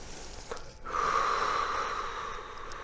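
A single audible breath during a home reformer Pilates exercise, a soft sharp inhale followed by a sustained airy exhale, close and quiet.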